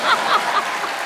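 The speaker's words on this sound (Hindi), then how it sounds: "अब ज्यादा तालियां अर्चना जी के लिए बजाइए" A comedy show's studio audience claps briefly, a short burst of loud, close applause that tapers off within a second.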